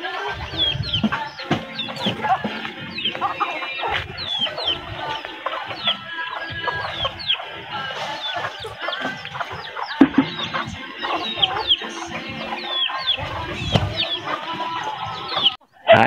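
Chickens cluck steadily and overlapping throughout, a busy barnyard flock close by, with a few sharper squawks and rustling.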